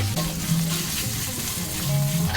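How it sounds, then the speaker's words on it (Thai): Thai red curry paste, about two hundred grams, stir-fries in hot oil with a steady sizzle and scraping stirs, close and moderately loud with no talking. "ผัดพริกแกงให้หอมก่อนเลย"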